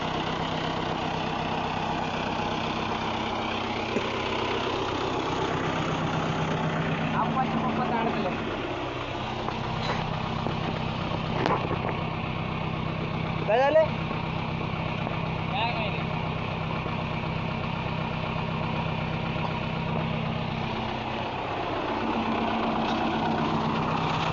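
A tractor stuck in the ground while hauling a load of four thousand bricks runs its engine at a steady low idle, with a continuous droning hum throughout and voices talking nearby.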